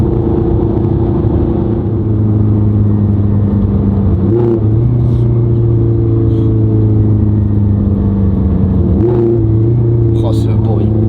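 A Ferrari F430 engine revs hard and steadily as it drops through gears, its low rumble rising sharply at two downshifts while someone speaks over it.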